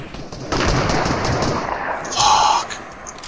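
Rapid gunfire bursts from the video game Fortnite, a dense crackling volley that starts abruptly and runs continuously, swelling briefly near the end, with no talk over it.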